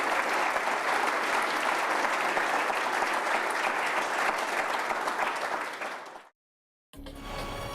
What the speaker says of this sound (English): We want to give an Orange County thank you and applause for our great speakers from Washington.